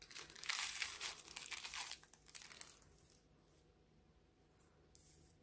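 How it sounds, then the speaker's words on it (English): Close, loud crinkling of plastic packaging as gold lobster clasps are pulled out, bursts of crackling and rustling for a few seconds, then quieter handling with a brief final rustle. "I might just take that out of the plastic actually."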